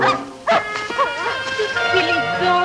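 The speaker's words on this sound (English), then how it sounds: "Silly dog." A dog yips and whimpers in short high, wavering cries, close and fairly loud, in a 1959 television drama scene.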